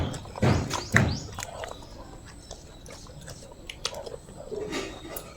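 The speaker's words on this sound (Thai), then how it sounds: "เดี๋ยวผมจะลองชิมกุ้งครับ" Shrimp being tasted gives a close, moist chewing at a moderate level, with a couple of stronger bites near the start and softer mastication noises afterward.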